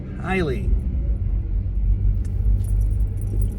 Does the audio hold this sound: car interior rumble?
yes